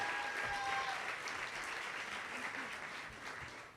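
Audience at a youth awards event giving a round of applause, steady even clapping from a sizeable crowd heard at a distance and fairly faint, tapering slightly toward the end.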